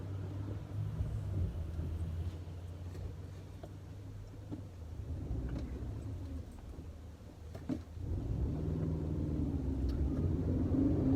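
A 1999 Subaru Forester driving along, its steady low engine and road rumble continuous throughout, swelling louder toward the end with no talking.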